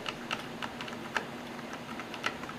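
Buttons on a Razer Nostromo gaming keypad are pressed in a quick, uneven series of light plastic clicks, close and fairly quiet, with no talking.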